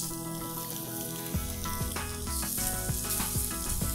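Pork tenderloin, halved lengthwise, sears on a dry pan that had been oiled earlier, making a constant loud sizzle with small crackles over background music.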